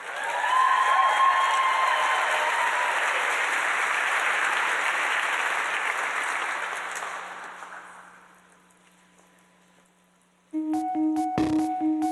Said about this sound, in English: please, everyone, give a round of applause for Evelyn.